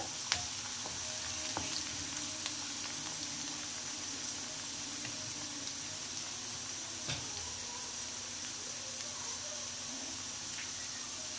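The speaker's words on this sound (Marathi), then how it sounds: "2 लवंग टाकायच्या आणि 2 मिरे टाकायचे, ते सुद्धा परतून घ्यायचं" Cloves and black peppercorns sauté in hot oil in a pan alongside a bay leaf for an okra masala curry, giving a steady, close sizzle with a few sharp stirring clicks.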